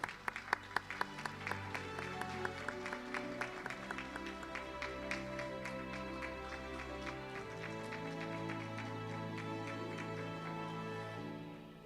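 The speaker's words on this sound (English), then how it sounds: "Let's all give a louder round of applause to the Governor." A large audience at the Penang Future opening address applauds the Governor, a dense sustained wash of clapping that starts with a few sharp claps and swells to a steady roar over nearly twelve seconds, with a voice faintly under it.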